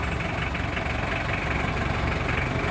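A 2002 Mitsubishi L300 diesel with an upgraded Bosch pump idles steadily nearby, a loud, continuous low rumble with an even mechanical clatter and no pauses or speech.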